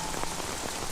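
Steady rain falls at night on a man standing alone outdoors, a dense even hiss of drops on surfaces with no voices, holding constant for the whole second.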